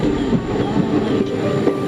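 A train rumbles steadily along with a low, continuous roar and faint rhythmic clatter from the wheels, heard from inside the carriage.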